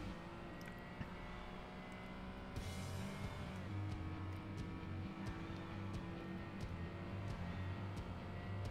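A race car's engine holds full throttle in Forza Motorsport, a steady loud drone of sustained harmonics that climbs briefly in pitch, with no voices.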